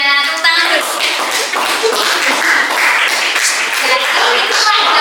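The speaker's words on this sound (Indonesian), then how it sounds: "Tepuk tangan dulu." Students in a high school classroom clap together for several seconds, a dense, steady patter of hands that stays loud throughout, with faint voices mixed in.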